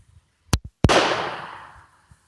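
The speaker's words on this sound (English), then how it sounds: "So this will be the first time that we've shot this firearm, and I am gonna shoot it single action" A Webley Mk V revolver fires a single-action shot, preceded by two sharp mechanical clicks of the hammer being cocked, then one loud report whose ringing tail fades over about a second in an otherwise quiet outdoor range.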